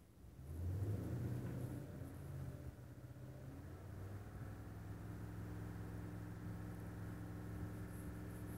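Toyota Tundra 2016 engine with a misfiring coil revs once and then settles into a steady, low rumbling idle, heard close and fairly quiet with no talking.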